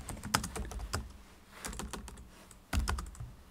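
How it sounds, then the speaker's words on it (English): A question being typed on a computer keyboard, heard as bursts of quick, close key clicks separated by short pauses, with a louder run of keystrokes near the end. "I will type a question."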